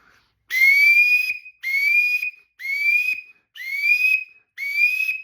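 Five bright rising notes of a flying duck call on a duck whistle in a steady rhythm, each about a second long with short gaps, loud and close, no talking.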